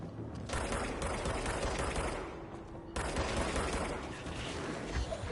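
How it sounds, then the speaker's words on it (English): Rapid gunfire from enemy pistols in the video game Control, a dense continuous volley of shots that breaks off briefly near the middle and then resumes just as loud. "It's firing its pistols at me"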